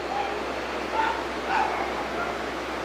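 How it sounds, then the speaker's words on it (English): A few dogs bark in the distance, short yips coming at about three moments over steady room noise, faint and far off. "Y'all hear them dogs?"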